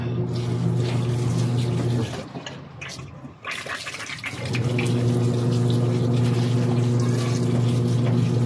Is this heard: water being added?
yes